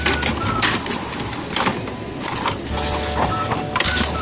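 A Canon IP2770 inkjet printer whirs and clatters with steady mechanical motor noise and a few sharper clicks as it is switched off, continuous and close throughout.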